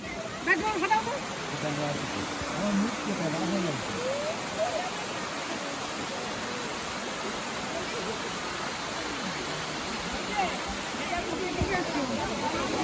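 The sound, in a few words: Elephant Falls waterfall in Shillong, Meghalaya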